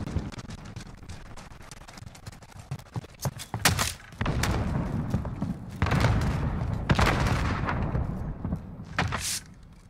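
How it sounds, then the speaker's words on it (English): Grenade blasts in Call of Duty: Modern Warfare during a Search and Destroy match, several heavy booms and thuds rising out of steady game noise, with a couple of louder bursts spaced a few seconds apart. "Who keeps throwing a grenade?"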